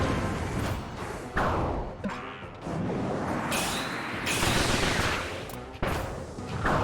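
Missile shots fired repeatedly in Kirby's Return to Dreamland Deluxe, a busy run of thumps and whooshing bursts over game music, steady and close throughout.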